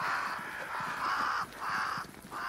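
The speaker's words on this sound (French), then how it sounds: "Des corbeaux." Crows caw in the Banishers: Ghosts of New Eden video game, a series of harsh repeated calls in steady rhythm over a continuous ambient game backdrop.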